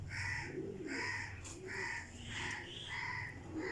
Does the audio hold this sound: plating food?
no